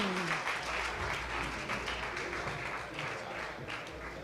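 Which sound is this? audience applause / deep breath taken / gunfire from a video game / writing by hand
audience applause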